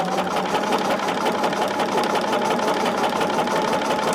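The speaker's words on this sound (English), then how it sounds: "going to sew all of these at that 1/4 inch on all of the grid lines" A sewing machine stitches quarter-inch seams along the lines of a fusible grid, a steady, close mechanical whir with a fast, even needle clatter running without pause.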